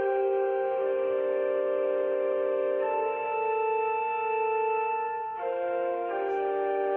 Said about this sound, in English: I think the pipe organ is my favorite instrument.